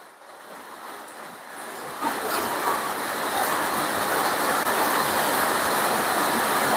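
Heavy rain pouring down outdoors, a dense broadband hiss that swells louder after the first couple of seconds and then holds steady and close, with no voices.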